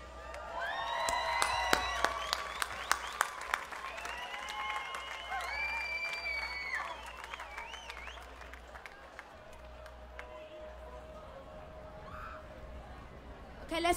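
Crowd at a live concert at Sound City Liverpool 2016 applauds and cheers loudly for the band, with scattered whistles rising over the clapping before the noise slowly dies down to a quieter murmur.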